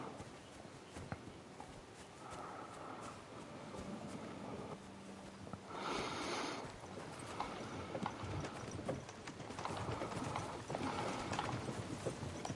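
Horses pulling wagons in Kingdom Come Deliverance 2 clip-clop in a steady rhythm at low level, joined by creaking and rolling noise from the wagons.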